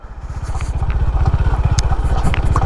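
A Honda Highness CB 350 motorcycle rides off-road, its single-cylinder thump pulsing in a fast, steady rhythm up close and loud, with occasional light clatter over the engine beat.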